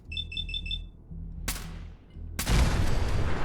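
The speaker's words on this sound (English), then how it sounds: "Another immediate explosion." A robot in Fallout 4 gives a run of rapid high electronic beeps, then a sharp crack, and moments later a loud explosion that roars and rumbles on to the end.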